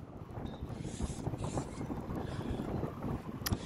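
Gusty seaside wind in Scarborough buffets the microphone with a rough, steady low roar that swells and dips, and a brief sharp gust or knock sounds near the end, with no talk.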